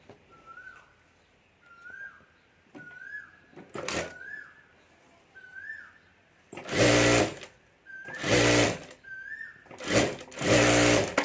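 A sewing machine stitches a fabric strip onto a bag's lining in several loud bursts of rapid stitching, separated by pauses where faint chirping whistles repeat in the quiet background.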